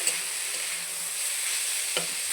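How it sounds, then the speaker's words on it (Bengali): Kolmi greens (water spinach) frying in a pan in a village kitchen, a brief steady hiss of sizzling oil with a soft scrape of stirring near the end, close and even, no voices. "কলমি শাকটা ভাজা হয়ে গিয়েছে"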